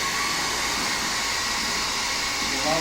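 An air blower runs during a water-cooled PC build, producing a steady, loud, breathy rush of air that holds nearly constant throughout with only slight shifts in pitch.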